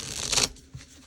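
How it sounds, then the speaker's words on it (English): Tarot cards shuffled and handled close by, a burst of crisp papery riffling followed by softer slides and a light tap, with no voices. "Pull some tarot cards."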